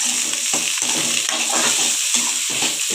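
Onions and curry leaves sauté in hot oil in a pan, a bright continuous sizzle with rhythmic stirring strokes repeating about every half second, close and loud without any talking.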